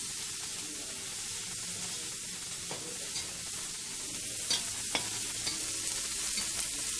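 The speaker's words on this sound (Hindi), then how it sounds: "तो थोड़ा सा भून देंगे हम इसको" Chopped capsicum and cabbage sizzle steadily in a hot pan at a street food stall making veg franky, a close, even hiss with occasional stirring clicks and no talking.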